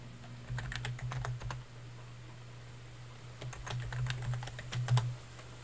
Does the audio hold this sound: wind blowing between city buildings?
no